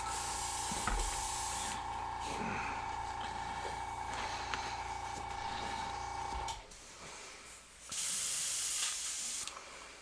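Spray paint hisses through a paper mask stencil in a long continuous loud burst, stops abruptly, then a second shorter spray follows after a brief pause.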